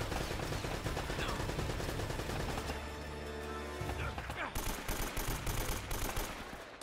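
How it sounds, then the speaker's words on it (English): Mounted machine gun fire in Uncharted: Drake's Fortune: dense, rapid automatic fire clatters almost continuously, briefly giving way to a humming lull before resuming in sharp bursts, with a short grunt from a voice. "That sounds a lot like a mounted machine gun."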